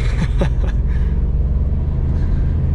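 Holden VS with a 5-litre V8 driving along, a steady low engine rumble with a brief rev swell near the start, continuous and close.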